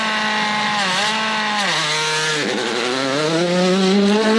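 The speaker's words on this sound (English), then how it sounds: "And this is Danny driving for the podium" A Hyundai rally car races at speed through Rally Mexico, its engine screaming steadily loud and close, pitch dropping and rising sharply through gear changes.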